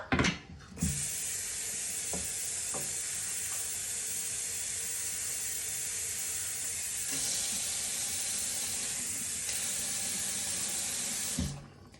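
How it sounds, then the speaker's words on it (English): Water runs steadily from a tap into a pressure cooker for several seconds, a continuous hiss with a few clunks at the start and end. "I'm going to fill it up to the max line with the with water"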